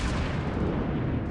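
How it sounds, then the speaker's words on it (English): Rapid anti-aircraft gunfire booms in World of Warships Blitz, a dense, rumbling burst of naval flak shots with no pauses. "Enemy aircraft incoming. Anti-aircraft gun on full alert."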